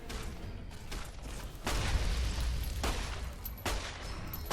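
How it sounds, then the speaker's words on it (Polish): Heavy-weapon gunfire in the Fallout New Vegas video game: loud sustained bursts of rapid shots in several long waves, dense and continuous with brief dips between volleys, no voices. "Matko Boska, z czego oni do ciebie strzelają?"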